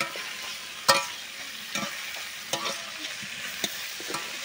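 Shrimp and cauliflower curry is stir-fried in a pan, giving a steady soft sizzle broken by periodic scraping clinks of a spoon against the pan, close and without talk.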